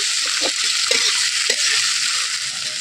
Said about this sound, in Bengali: পেঁয়াজটা একটু ভালো করে আমি ভেজে নেবো।